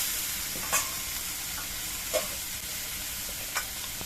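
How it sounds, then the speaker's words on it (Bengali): Vegetables fry in a pan with a steady, close sizzle throughout, while a spoon stirs them with a few short scraping clicks at regular intervals; no talking. "এই ঝোলগুলো ভাজতে ভাজতে ছিঁড়ে ফেলতে হবে সবজিগুলোকে কিছুক্ষণ ভেজে নেওয়ার পর দেখুন জলগুলো সব শুকিয়ে গেছে আর সবজিটাও অনেকটা ভাজা হয়ে গেছে"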